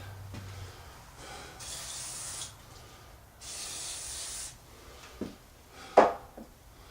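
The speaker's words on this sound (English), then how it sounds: "Spray a little bit of that parts cleaner on it" Two bursts of pressurized parts cleaner spray hiss, each about a second long, onto a 2008 Trailblazer water pump job, followed by a few soft knocks and clunks nearby.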